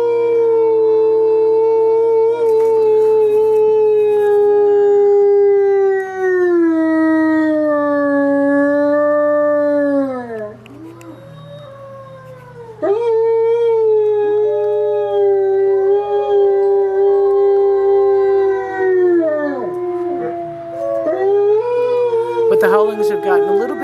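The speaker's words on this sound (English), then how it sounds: "Continue to have howling, so I'll let you listen to that here." Several wolves howl in a social chorus of long, wavering, sliding tones that overlap and rise and fall, with brief dips between howls and a steady low hum underneath.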